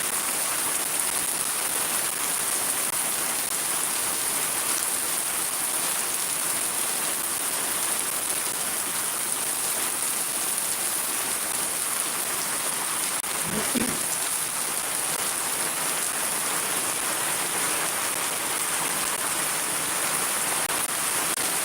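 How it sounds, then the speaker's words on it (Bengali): Heavy rain pours steadily in Shariatpur, a dense, even hiss that holds at the same loudness throughout with no voices, broken only by one brief low thump midway. "অনেক বৃষ্টি হচ্ছে"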